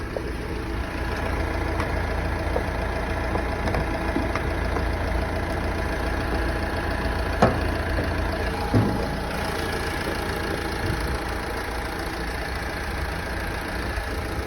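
A two-litre, 150 hp Renault Megane diesel engine with a torque-converter automatic idles steadily and fairly quietly, a low continuous rumble with a faint knocking texture and nothing else over it.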